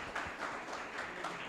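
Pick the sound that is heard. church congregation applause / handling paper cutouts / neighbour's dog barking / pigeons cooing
church congregation applause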